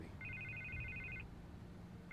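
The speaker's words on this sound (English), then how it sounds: "I can't get the phone to stop ringing." A telephone rings in Batman: The Telltale Series, a faint electronic double-trill ring lasting about a second, then starting again, over a low hum.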